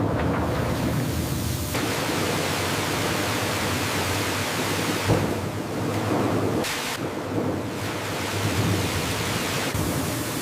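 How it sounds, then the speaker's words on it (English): Powerful water jets scrub carrots in a processing plant, a dense, steady rushing and splashing roar that fills the space, loud and continuous with slight surges. "Powerful jets create a cleansing vortex, thoroughly scrubbing away all impurities"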